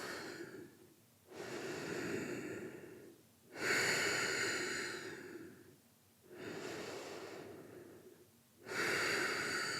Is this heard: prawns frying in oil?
no